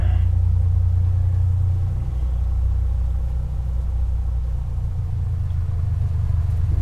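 Piper Comanche 250 piston engine in the A2A flight simulator game, a steady loud low droning rumble that holds throughout with a slight rise in revs, no talking.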